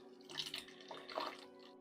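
Warm water runs and splashes briefly while a bath hand glove is wetted for exfoliating with a body scrub, giving a close, steady trickle and no talk.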